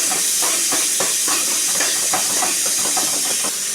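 Onions and tomatoes sauté in a hot pan with a loud, constant sizzling hiss and small crackling pops, close and uninterrupted throughout.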